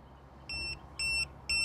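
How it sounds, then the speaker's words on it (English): Three evenly spaced electronic warning beeps from a tire pressure monitoring system signalling pressure loss in a tire, each a short sustained high tone with a steady rhythm and a quiet low hum underneath. "if there's a failure in any of the tires, it'll immediately start to beep"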